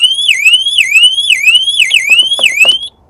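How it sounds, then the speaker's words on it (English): A car alarm blares in an auction yard, its loud warbling siren sweeping up and down in repeated cycles for about three seconds before cutting off abruptly. "We're setting off all kinds of alarms here."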